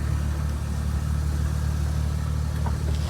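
A 2001 Maruti Omni van's engine runs at a steady idle, a continuous low mechanical drone heard up close, with no talking.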